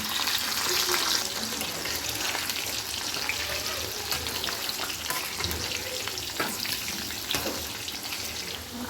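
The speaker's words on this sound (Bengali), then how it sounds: "আলু কটা ভেজে নিলে ভালো হয় স্বাদটাও খুব বেশি ভালো লাগে" Potato pieces fry in hot oil for a Bengali rohu fish curry, giving a steady, dense sizzle and crackle throughout with occasional soft stirring clicks and no voices.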